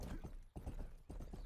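Horse hooves clop in a quick, even rhythm in a video game, soft and fairly faint over a brief moment.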